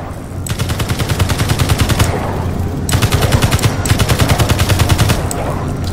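Rapid machine gun fire from a Space Engineers base raid rattles in two long, loud bursts separated by a short pause, each burst a dense run of evenly spaced shots.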